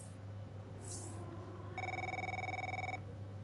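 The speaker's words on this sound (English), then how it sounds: "Oh, phone call by Mr. Butler himself." A phone rings in the F1 23 racing video game, one steady electronic ring tone lasting about a second over a constant low background hum.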